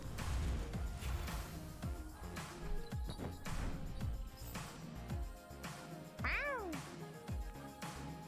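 One short, bright cat meow cuts in near the end over continuous busy background music with repeated low beats.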